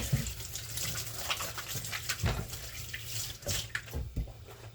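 Hands being washed under a running kitchen tap, a steady close splash and trickle with small irregular clatters and drips over low background noise.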